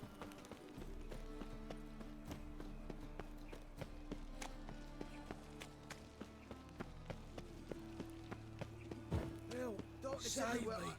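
Hooves clip-clop in a quick, steady rhythm over quiet background music, with a brief voice near the end.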